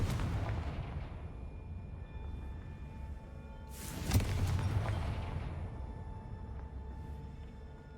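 The Confringo fire spell from the Hogwarts Legacy video game goes off as a single booming blast with a rumbling tail over steady in-game ambience.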